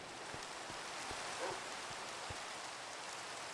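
Steady rain falls in Minecraft, a continuous hiss of drops pattering on the ground overhead, with a few soft thuds scattered through the even wash of sound.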